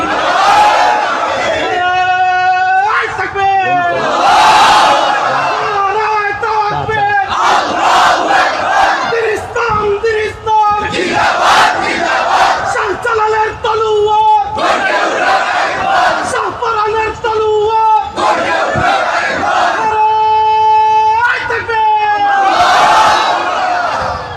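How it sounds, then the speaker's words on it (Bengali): A large crowd at a religious mahfil gathering in Sylhet, Bangladesh, shouts the takbir chant in loud unison, with repeated call-and-response bursts and sustained, powerful choruses throughout. "তাহলে একটা তাকবীর দেন, নারায়ে তাকবীর"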